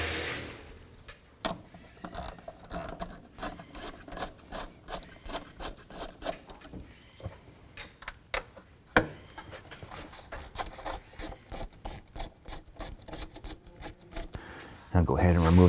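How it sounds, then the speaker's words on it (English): A ratchet with an 8mm socket loosens hose clamps on the air intake of a 2007-2014 Cadillac Escalade, giving repeated short bursts of rasping clicks in a steady rhythm, close and fairly loud. "Using an 8mm socket, we're going to go ahead and loosen this hose clamp"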